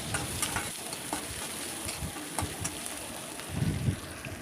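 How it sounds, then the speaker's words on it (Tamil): A large chopped onion sautés in a hot pan, giving a steady close-up sizzle with repeated stirring scrapes that grow louder toward the end. "இதோட ஒரு வெங்காயம் பெரிய சைஸ் வெங்காயம் கட் பண்ணி இதில் சேர்த்துக்கிறேன் சேர்த்து நல்லா வதக்கிக்கலாம்"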